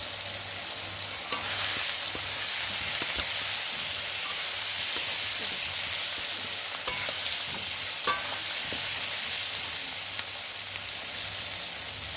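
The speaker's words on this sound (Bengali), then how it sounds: "পেঁয়াজটা আমি দিয়ে দিয়েছি কড়াইয়ের মধ্যে।" Onions sizzle continuously in a kadai, with a few sharp clicks of stirring scattered throughout.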